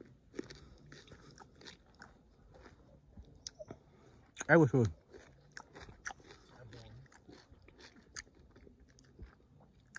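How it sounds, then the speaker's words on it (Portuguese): Someone chews and eats sweet umbu fruits close to the microphone, with soft wet mastication and one louder crunchy bite midway. Someone speaks Portuguese intermittently between the chewing sounds. "Vou comer vários embuzinhos aqui."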